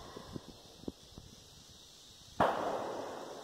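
Distant gunshots ring out outdoors as a sharp burst followed by a lingering rumble, preceded by a few faint, scattered pops; no one speaks.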